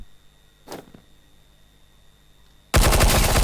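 Gunfire in the Minecraft CSZ MineZ server, a shooting-style mod: one short shot early on, a quiet stretch, then a loud sustained burst of rapid automatic fire to the end.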